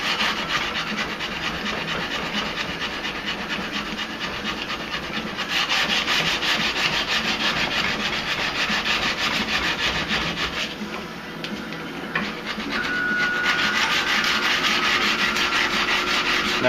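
A knife blade is hand-sanded after heat treat, a steady abrasive rasping of sandpaper against steel that runs continuously and close, with slight shifts in intensity as the strokes change.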